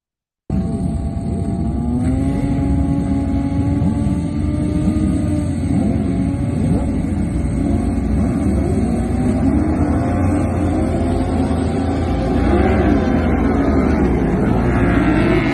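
Racing motorcycles in a WERA Formula One road race at Roebling Road, run together with the 600cc class, roar continuously at close range, with engine notes rising and falling as the bikes shift and pass.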